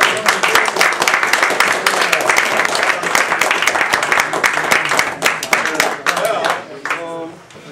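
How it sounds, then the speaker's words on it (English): An audience at a marketplace-themed gathering claps for a speaker in a sustained, dense burst of applause close by, tapering off near the end. "How about one more round of applause for our speaker?"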